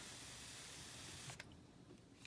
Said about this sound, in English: Let's give it a bit of a spray, so I've got some damp underneath.